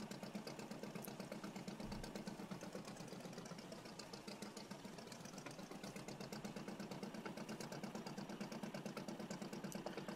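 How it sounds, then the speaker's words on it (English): A loud fishing boat engine in the video game Fishing: Barents Sea runs steadily for the whole stretch, a dense, rapid mechanical throb with rattling vibration and no voices. "This is a very loud boat as well."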